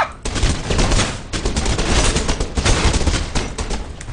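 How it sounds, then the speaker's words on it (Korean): Loud bursts of gunfire crackle through a first-person action game, Mirror's Edge, dense overlapping shots and rapid volleys filling the whole stretch with little pause, close and harsh. "너무 총소리 너무 크잖아"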